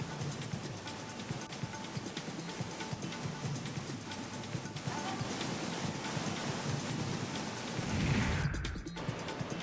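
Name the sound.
heavy rain in Hinjewadi Phase 3, Pune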